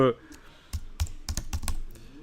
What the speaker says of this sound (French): dans Google ici, si je tape